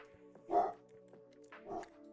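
Indoor dog barking in two separate muffled woofs roughly a second apart, set against a faint background drone at moderate distance.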